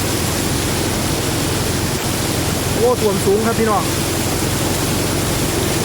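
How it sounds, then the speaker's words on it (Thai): Strong floodwater rushes across a flooded rural road in Rasi Salai district, Thailand, a steady broadband roar of flowing water that runs throughout, with a voice talking briefly over it in the middle. "เบื้องแล้วน้ำไหลเป็นคลื่นเลยครับคุณผู้ชม"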